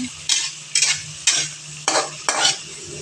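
Tomatoes frying in a pan, with a steady sizzle and five distinct scraping stirs at a regular pace, close up and with no talk.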